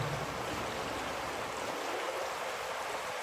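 A river flows beneath a bridge past a sandy bank, a steady broadband rush of moving water that stays even and uninterrupted throughout.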